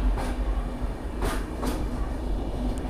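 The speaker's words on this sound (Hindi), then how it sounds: "तो भाई हमारे ट्रेन का डिपार्चर हो गया भुवनेश्वर जंक्शन से" The Dhauli Express pulls out of Bhubaneswar Junction with a steady rail rumble, a low drone and a few brief hissing bursts. It sounds fairly near and there is no talking.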